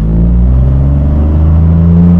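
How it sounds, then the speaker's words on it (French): Stage 1 tuned 2021 Opel Corsa with a 1.2 PureTech engine pulling hard, a loud, steady low engine drone with a gradually rising tone, close and continuous without a break. "la voiture elle bombarde bien comme il faut quand même"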